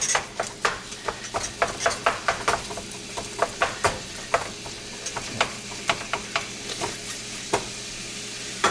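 Ground meat sizzles and browns in a skillet sprayed with Pam, while a utensil scrapes and stirs it in repeated sharp strokes over a steady frying hiss, close up, with no talk.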